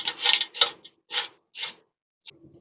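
Sandpaper of 400 grit rasps across the contact points of a rear drum brake assembly in about five short, brisk strokes, each a close, dry scrubbing burst separated by brief pauses.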